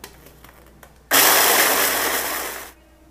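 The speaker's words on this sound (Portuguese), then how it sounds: "Eu já coloquei aqui no processador, que eu vou bater para ele virar uma farinha." A food processor crushes Doritos chips into crumbs in one loud burst of harsh grinding and rattling lasting about a second and a half, with quiet before and after.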